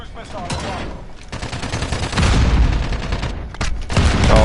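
Dense video game gunfire crackles in rapid bursts with booming impacts, a chaotic near-continuous barrage that swells louder toward the end.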